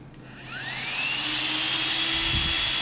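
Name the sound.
Flextail electric air pump running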